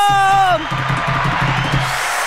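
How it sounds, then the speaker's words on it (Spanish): A studio audience on the talk show La Lengua claps and cheers after a rising whoop, the crowd noise holding steady at moderate volume. "¡Aplausos!"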